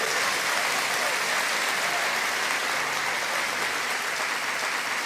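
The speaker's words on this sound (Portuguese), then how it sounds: "Aplauda o nome dele." Steady congregation applause in a church service, dense and sustained for the full stretch at moderate level, with no voices rising above it.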